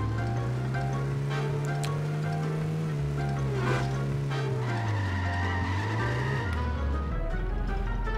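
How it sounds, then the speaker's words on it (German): A car racing at full throttle in the video game The Simpsons: Hit & Run, with a loud, continuous engine drone that rises and falls in pitch through gear changes, plus tire skidding and no talking. "Ja, dieses Auto ist schon etwas schneller."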